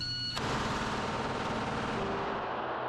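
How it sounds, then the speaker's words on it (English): A Glock 17 pistol illegally fitted with a switch and loaded with a 30-round magazine fires full auto, a loud continuous roar of rapid shots blurring together for the whole stretch. "a handgun illegally modified to make it act like a machine gun"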